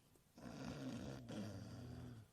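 A dog in deep sleep lets out one long, low, rumbling snore, close and quiet, alone with no talk.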